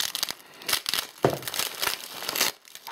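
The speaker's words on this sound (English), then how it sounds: "Might as well unwrap the power cord while I'm unwrapping everything." Packaging from a newly arrived Viglen laptop and its power cord is unwrapped, with close crinkling and tearing of plastic and paper in loud bursts that then stop abruptly, and no talk.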